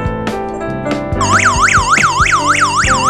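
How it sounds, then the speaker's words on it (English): A loud electronic WiFi/GSM burglar alarm siren rises and falls in rapid repeating whoops after a few short countdown beeps, with no talking. "Now it's counting down for the alarm to go off."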